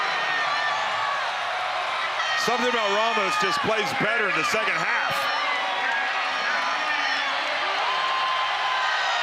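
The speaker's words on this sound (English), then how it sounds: "The crowd in raptures." A basketball crowd roars and cheers in an arena during a FIBA Asia Cup game between the Philippines and New Zealand, a loud sustained swell beneath a commentator talking, with a stretch of horns or whoops rising midway.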